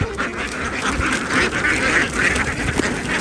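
Ducks being caught and sorted: a crowded flock quacking and honking continuously up close, loud and busy, with no clear talk.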